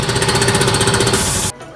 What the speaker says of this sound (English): I'm gonna turn off this compressor here.